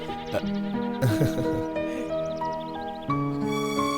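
A young goat kid bleats repeatedly, close and loud, its wavering cries set over a continuous musical background.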